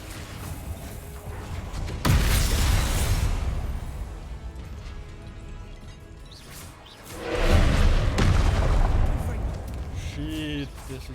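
Confringo spell blasts in Hogwarts Legacy: two loud, sudden explosive bursts a few seconds apart, each with a roaring, sustained rumble that slowly fades, mixed with game effects and occasional talking.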